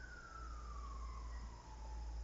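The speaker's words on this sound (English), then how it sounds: "I'm hearing sirens outside." An emergency vehicle siren wails outside, a single distant tone sliding slowly downward over a low rumble of traffic, faint and steady with no voices.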